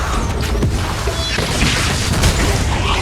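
A loud, booming explosion from the video game Honkai: Star Rail, a dense roar that fills the whole stretch with crashing impact and no pause.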